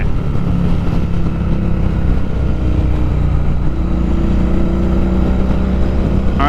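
A Royal Enfield Interceptor 650 motorcycle under way, its parallel-twin engine droning loud and steady with wind rush, the pitch shifting slightly as it rides on, no voices.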